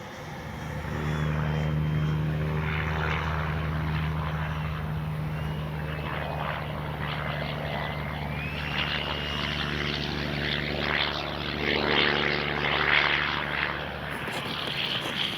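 A Freewing F-22 90mm RC jet comes in to land with gear and flaps down. Its steady whining electric ducted-fan drone holds at moderate distance and swells slightly near the end, with no talking.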